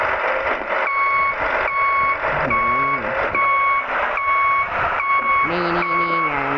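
Repeated reversing beeps sound from a 2024 Volvo FH15 truck, steady tones recurring about once a second over a continuous engine rumble.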